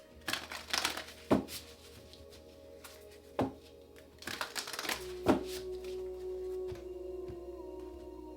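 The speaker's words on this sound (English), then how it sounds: "2 more shuffles" A Moonology oracle card deck is shuffled in a few quick bursts of crisp card riffling and tapping, with soft rustles between and a low steady hum underneath; no one speaks.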